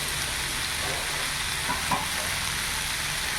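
Spices such as turmeric, cumin and Kashmiri chilli powder fry in a pan for a papaya and potato curry, giving a dense, continuous sizzle with faint stirring scrapes; no voices.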